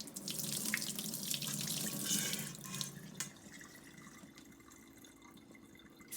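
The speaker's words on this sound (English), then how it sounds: "Rinse the bowl out" Tap water runs into a bowl as it is rinsed out in a kitchen sink during sea moss preparation, a steady splashing stream that fades to quieter drips and trickles, with no talk.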